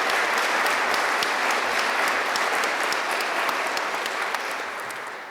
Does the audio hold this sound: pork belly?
no